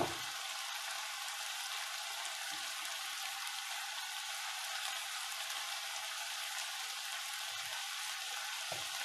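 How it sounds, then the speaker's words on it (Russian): Chicken and vegetables fry in a pan for an Asian-style dish, a soft, steady sizzle and crackle close by, with no talking. "Так, у нас обжаривается здесь курица с овощами"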